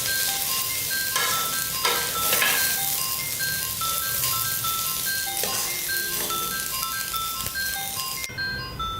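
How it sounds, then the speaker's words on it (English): Basmati rice fries in a pan with a continuous close sizzle, broken by scraping stirs and light clinks of the spoon. "this basmati rice has to be fried till it gives the fragrance"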